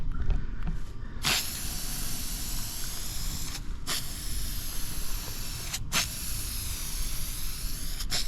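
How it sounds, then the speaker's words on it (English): Metallic spray paint hisses steadily from an aerosol can onto a car body in long, continuous passes, a near and loud spray broken only by a few brief pauses between strokes. "we're gonna go around here and we'll come back with just a little wetter coat here this time"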